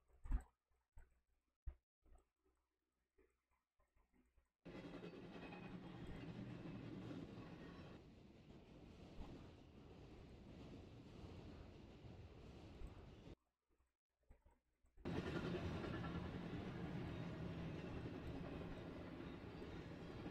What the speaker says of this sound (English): There's a bunch of those trains